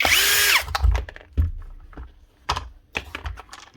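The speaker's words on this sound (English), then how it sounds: "Take out a few of these screws, two either side." Screws come out of an older Hikoki nail gun during a repair, starting with a brief loud whir from a powered driver and followed by scattered close clicks and knocks of the tool and screws.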